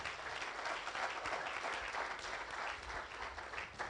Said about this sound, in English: Please give a round of applause to this man.